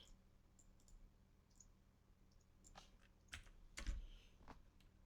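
Quiet typing on a computer keyboard during a poker stream, an irregular run of soft clicks and key taps with a brief busier flurry near the end, close but low in level.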